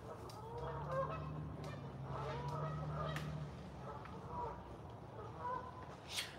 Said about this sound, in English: They are Canadian geese.